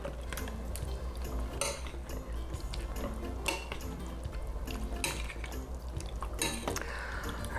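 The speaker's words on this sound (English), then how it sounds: "you just stir it all together" Spoon stirring tortellini in tomato sauce in a skillet, with repeated scraping clinks and wet sloshing strokes in an uneven rhythm, close and fairly loud, no speech.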